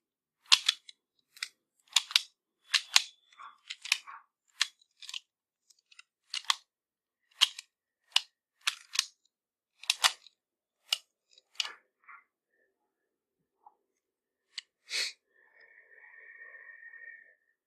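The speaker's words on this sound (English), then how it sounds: "again, I will shuffle the cube and let us solve." Plastic Pyraminx pyramid puzzle being shuffled, a long run of sharp, close clicks and snaps in irregular bursts, with a brief higher rattle near the end and no talking.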